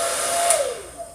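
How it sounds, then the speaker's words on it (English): A handheld blow dryer drying natural hair gives a close, loud, continuous rushing whoosh whose pitch swoops downward as the airflow shifts, fading slightly toward the end. "so here's the blow dryer."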